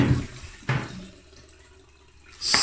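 Tap water runs in short gushes while fresh artichokes are scrubbed clean, with bursts of splashing at the start, briefly midway and again at the end, and a quieter trickle in between.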